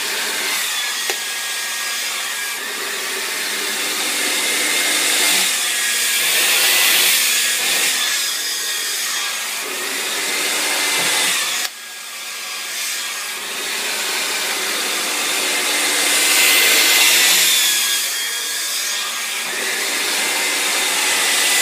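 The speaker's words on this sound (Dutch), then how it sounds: "Hiervoor gebruik ik wel de ronde borstel. En we gaan het gewoon weer föhnen." Hair dryer blow-drying hair over a round brush, a steady airy whoosh that swells and eases as the brush moves, with one short dip midway and no talking.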